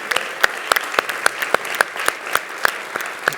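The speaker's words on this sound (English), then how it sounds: "if you can all give a round of applause for all the people who are behind the screen" An audience at a Los Angeles real-time graphics conference gives a thin round of applause, with sparse, distinct claps popping irregularly at close range.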